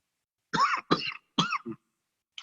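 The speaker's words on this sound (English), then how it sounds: "That's that COVID cough." A short burst of harsh, raspy coughing, three or four hacks in quick succession, close by and moderately loud.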